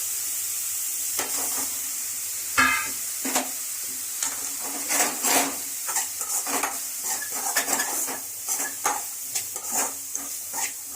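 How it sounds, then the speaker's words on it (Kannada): Ingredients frying in a pan for a spiced Indian-style bread toast, with a steady sizzle broken by repeated clinks and scrapes of a spoon stirring against the metal. "ಎರಡನ್ನು ನೀಟಾಗಿ ಫ್ರೈ ಮಾಡ್ಕೊಳ್ಳೋಣ."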